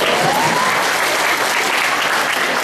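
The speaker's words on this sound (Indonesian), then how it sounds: "Tepuk tangan adik-adik." Loud, dense applause from a large student audience at a university event, a continuous wash of clapping that stays steady and close for the whole stretch.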